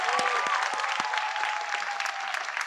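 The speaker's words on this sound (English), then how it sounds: "Let's give him a quick round of applause." A commencement audience at the American International School Chennai claps steadily, dense close applause sustained throughout with a few sharper individual claps standing out.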